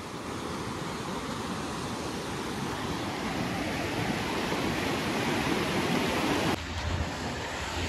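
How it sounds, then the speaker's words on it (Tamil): A fast-flowing mountain river near Manali roars close by, a loud, constant rush of water that continues without a break and briefly shifts in tone near the end, with no voices. "இங்கே தண்ணி போகிற ஸ்பீடை மட்டும் பாருங்களேன்."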